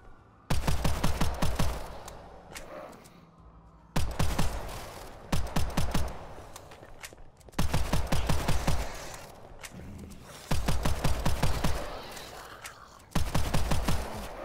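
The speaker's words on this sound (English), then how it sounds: "This pistol is good." A pistol fires in rapid strings of sharp, close shots in Hellbreach Vegas, volleys of five or six cracks separated by short pauses, repeated about five times.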